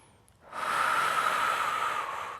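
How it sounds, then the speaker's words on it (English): A deep, steady breath drawn during a no-equipment Pilates lower-body workout, a close airy rush that swells in and holds for about two seconds, heard alone without talk. "Breathing deeply."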